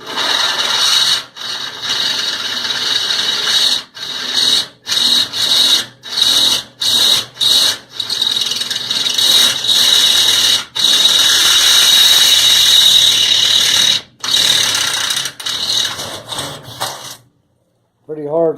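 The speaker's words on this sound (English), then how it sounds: "and then you can drill it bigger." A drill bit enlarges a pilot hole in hard steel, grinding and squealing in repeated bursts with short pauses between, loud and close, with a high metallic whine through much of it before it stops.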